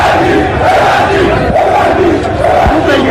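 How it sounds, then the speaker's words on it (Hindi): A large crowd of protesters in Iran chants slogans against Khamenei in a loud, rhythmic, repeating cadence, many voices together filling the space. "कुछ और आप आवाज़ें सुने, नारेबाजी सुने।"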